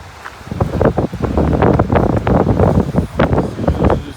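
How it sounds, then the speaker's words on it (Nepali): Loud, gusty wind at a riverside beach buffeting close to the microphone in rough, rumbling bursts, with no voices. "हावा चल्दैछ"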